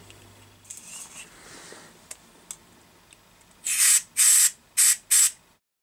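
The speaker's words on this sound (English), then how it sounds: "So I clean them all off with the air duster" A can of compressed air duster sprays in four short, loud, hissing bursts onto the electronic components of a 1964 Vox Lynx guitar during restoration, after a quiet stretch with faint handling noises.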